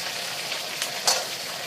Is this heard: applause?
no